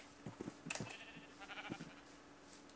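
Sheep bleating in the Minecraft video game, several short quiet bleats in quick succession, clustered in the first half and again near the middle, with no talking.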